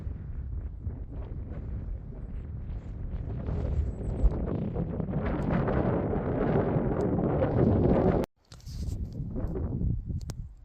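Strong wind buffets the microphone on an exposed mountain summit in the Southern Presidentials, a steady loud roaring rush that swells, cuts out briefly near the end, then returns in gusts.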